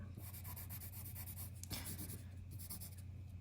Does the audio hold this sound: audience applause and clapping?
no